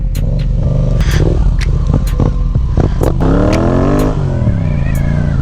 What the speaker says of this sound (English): This thing's like half dirt bike, half street bike